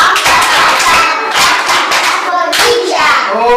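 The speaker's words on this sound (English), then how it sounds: "Okay, children, clap for yourselves." Children in an early learning session clap for themselves, a loud burst of quick, uneven hand claps close by, with young voices mixed in.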